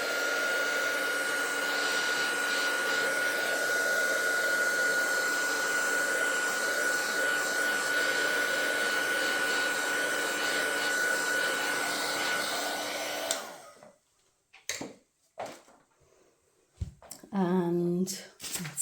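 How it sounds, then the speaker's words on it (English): A heat gun blows hot air to dry craft items, a loud steady whooshing roar with a constant whine that runs for about thirteen seconds, then cuts off abruptly and is followed by a person talking. "I'm just going to give them a quick blast of the heat gun here."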